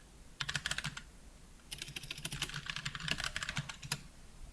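Typing on a PC keyboard while filling in a Facebook profile, with fast clattering keystrokes in two quick bursts separated by a short pause, close and fairly quiet with no talking.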